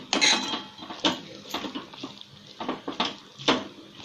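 Chana dal spinach sabzi gets stirred in a pan, giving a series of close metallic scrapes and clinks of a spoon against the pan at an irregular rhythm, with no voices.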